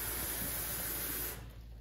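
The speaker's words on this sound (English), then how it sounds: "And I'm going to get a cup of cold water." Cold water runs from a kitchen tap into a cup as a steady, dense hiss, then cuts off after about a second and a half, leaving quiet room noise. No one speaks.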